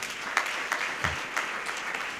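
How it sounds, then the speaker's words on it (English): Church congregation clapping during a service, a sparse, moderate patter of hands with a few sharper individual claps standing out, fairly even in level. "Let's clap for Jesus."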